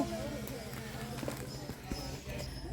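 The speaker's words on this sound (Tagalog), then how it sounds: "May kabayo sa taas." Horse hooves clip-clop on pavement during an outing in Cebu, a steady trotting patter heard among busy street noise, with people chatting over it.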